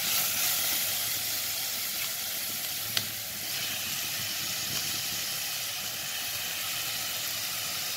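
Tomatoes go into onions frying in a pan, and a steady moderate sizzle and hiss follows, with a single sharp click partway through and no voices.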